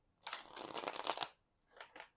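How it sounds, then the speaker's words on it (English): Thin linen-finish cardstock tarot cards are shuffled in piles, a soft close riffling rustle running for about a second, then two brief quieter shuffles after a pause, with no talking. "shuffle it in piles"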